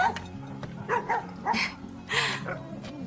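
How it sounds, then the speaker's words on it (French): A dog in a festive Christmas home setting gives a few short yips and barks at close range, spread across a few seconds against a light room background, with no other voices. "C'est un bon chien."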